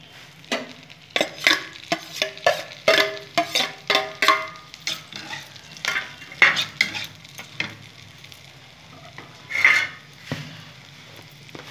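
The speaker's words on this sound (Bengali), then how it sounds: "আলুটা আমি একটু ভেজে নেবো, পুরটা তৈরি করে নেবো।" Boiled potato filling frying in a pan, with dense bursts of scraping, clattering stirring strokes over a low sizzle, busy for the first eight seconds, then calmer with a final flurry, close by.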